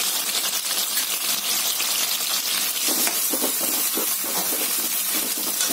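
Tomatoes and whole green chillies fry in a pan with cumin, giving a steady loud sizzle with scraping stirs and small clinks partway through, with no voices.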